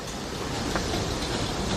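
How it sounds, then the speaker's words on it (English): A theme park train at Silver Dollar City rumbles overhead in a steady, loud, broad roar with a faint clatter of wheels, filling the whole moment. "the train goes over this"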